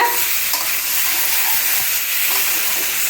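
Potatoes frying in a pan, a loud close hissing sizzle that holds steady throughout, with faint stirring taps and no talking.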